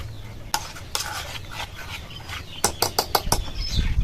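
Chopped vegetables stirred into a semolina mixture for an oil-free snack, with a spoon scraping and clinking against the bowl in quick close bursts over a low background; no talking.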